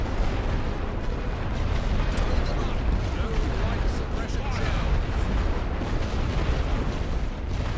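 Rifle volleys and artillery shelling from the World War One strategy game The Great War: Western Front make a dense, continuous barrage of distant booms and crackling shots, with a voice talking over the din throughout.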